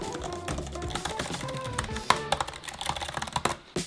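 Fingers type on a soft, low-travel Apple keyboard used with a MacBook Pro, giving a steady run of quick, close, light key clicks with a few sharper taps and no talk.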